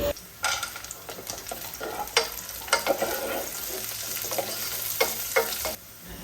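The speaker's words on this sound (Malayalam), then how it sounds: "അത് ഇതിലേക്ക് ഇട്ട് കൊടുത്തിട്ട് ഒന്നും കൂടി ഇളക്കി കൊടുക്കുക" Raisins being stirred into cashews frying in a pan for a Malabar egg dish, a steady close sizzle broken by repeated scraping stirs of the spoon, with no talking.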